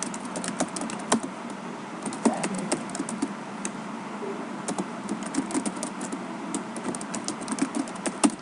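Steady typing of program code on a computer keyboard, close and clear, with rapid irregular key clicks running throughout and no voice.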